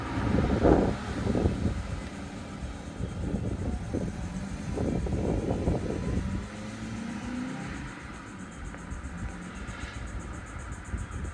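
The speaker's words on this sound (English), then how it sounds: "It's a windy day." Wind rumbles and buffets against the microphone in gusts, loud at first and easing to a steadier low roar.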